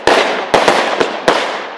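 A Seife Grave 38-shot firework battery fires close and loud, with four sharp bangs at uneven intervals under a hiss of burning effects.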